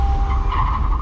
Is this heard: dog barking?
no